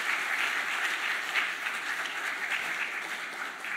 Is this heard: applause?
yes